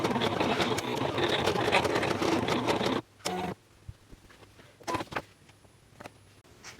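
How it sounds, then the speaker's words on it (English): A Silhouette cutter slices heat transfer and adhesive vinyl with no mat, a dense whirring, clattering motor run that stops abruptly partway, followed by a few short mechanical whirs and clicks. "we cut heat transfer and adhesive vinyl"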